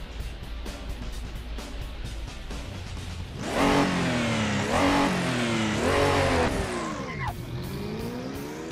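A Yenko Stinger modded into the Assetto Corsa racing game, its engine revving hard: a low idle rises into loud, rising and falling revs with gear changes, then a sharp drop in pitch, with no voices.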